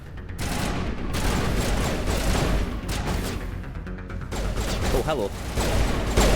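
Rapid bursts of gunfire fill an online shooter game as enemies open fire, dense crackling volleys running throughout at close range, with a short spoken greeting partway through.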